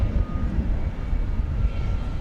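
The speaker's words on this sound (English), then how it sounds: "The big 767 about to make the turn onto runway 18 left" A Boeing 767 airliner taxis toward runway 18 left at DFW Airport, its engines giving a steady, loud low roar and whine that holds constant with no talking.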